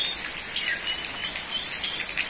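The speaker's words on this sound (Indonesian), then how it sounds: "Di sini masih hujan." Steady rain falls on surfaces outdoors on a roadside in Indonesia, a fairly faint, even hiss of drops with a faint bird chirp in the background.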